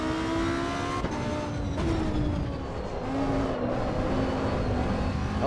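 A Lamborghini Huracan engine in Assetto Corsa Evo on the Nordschleife, droning steadily and loudly as revs climb and drop with each gear change, a continuous race-car whine without talk.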